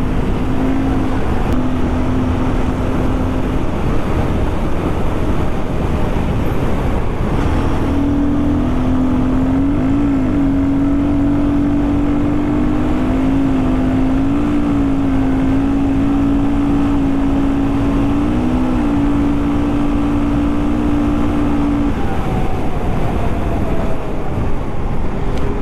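A Royal Enfield Guerrilla 450 motorcycle runs flat out in sixth gear with a sustained engine hum that wavers slightly, buried in heavy, roaring wind blast from up close.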